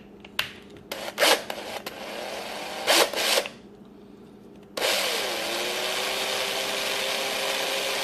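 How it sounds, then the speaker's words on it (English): Scratchy grinding and rasping of a drill bit slowly working into the wooden end of a broken fishing rod tip, in short uneven bursts at first, then a steady whirring drone for several seconds. "Just slowly going to drill into the end there."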